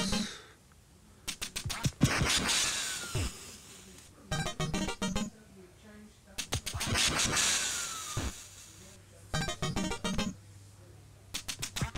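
Duck Hunt on the NES, with repeated bursts of electronic game sound effects, rapid stuttering blips and flapping cues, playing between short quiet gaps; a duck-like squawk appears among the game noises.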